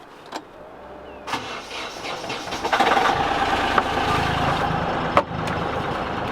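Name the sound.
sailboat engine starting and running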